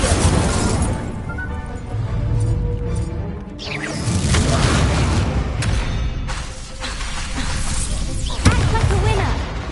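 An Incendio fire spell blast in Hogwarts Legacy, a loud burst and whooshing roar of flame amid dense game combat noise, with someone talking.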